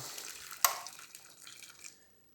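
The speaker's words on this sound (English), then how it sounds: "Just add some boiling water to" Boiling water poured into a pot holding a spaghetti bolognese ration pouch, a short splashing pour that starts sharply and trails off over about two seconds, close by with no talk.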